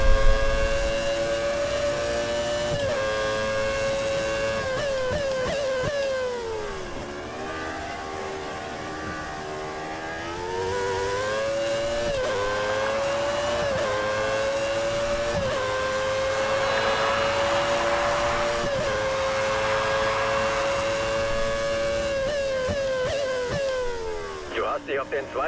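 Williams FW18B Formula 1 car racing at Sepang in the F1 2013 game, its engine a loud, sustained high-pitched wail that dips and climbs through gear changes and corners for the whole stretch, with no talk over it.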